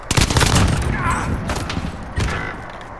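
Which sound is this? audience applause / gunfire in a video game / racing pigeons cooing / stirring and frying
gunfire in a video game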